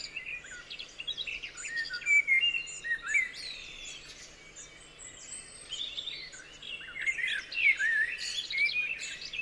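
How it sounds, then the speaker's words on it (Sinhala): Morning forest birds sing and chirp in a steady overlapping chorus of high, bright calls and trills, swelling and easing throughout with no voices. "උදැසන කැලේක කුරුල්ලන්ගේ හඬ"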